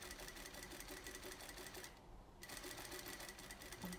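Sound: sewing machine stitching a seam

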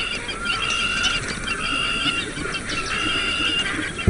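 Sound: birds gathering at shrinking Kalahari pools

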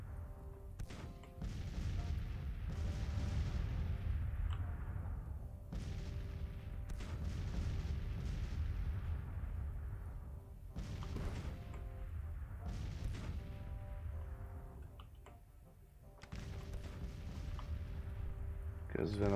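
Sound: militia gunfire in video game Grand Tactician: The Civil War

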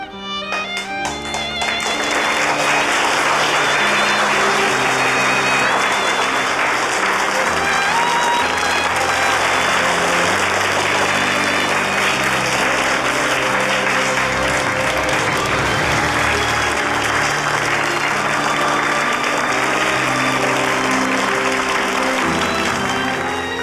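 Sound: applause from classmates

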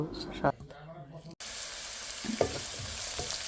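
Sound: chopped onion frying in mustard oil in a wok

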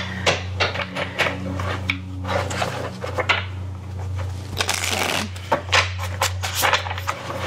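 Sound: shuffling tarot cards

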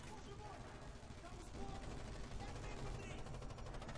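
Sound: machine gun fire in Red Orchestra 2 video game

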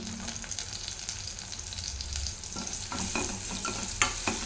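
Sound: green chilies and curry leaves frying in oil, stirred

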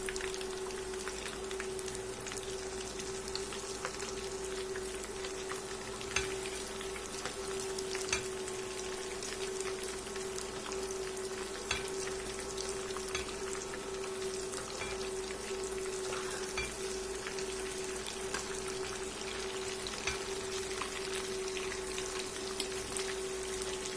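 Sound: pirozhki frying in a pan, turned over

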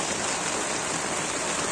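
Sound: heavy rain at a mountain campsite

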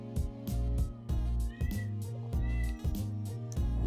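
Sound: cat meowing

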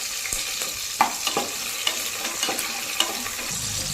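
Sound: shallots, curry leaves and green chillies frying in a pan

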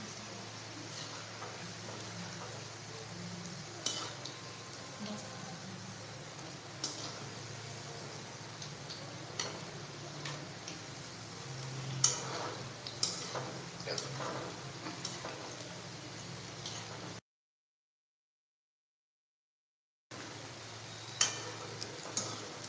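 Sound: onion bhaji frying in a kadhai

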